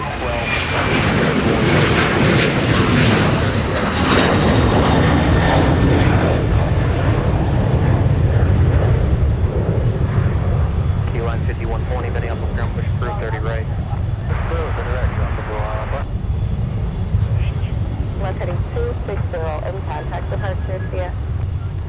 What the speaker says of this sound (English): The bare metal retro getting airborne for Dallas-Fort Worth